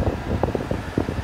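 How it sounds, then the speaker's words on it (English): Steady broadband blowing of the air conditioning inside a 2021 Toyota Camry LE Hybrid, a close, even fan rush with a few soft bumps and no talk. "AC is blowing cold."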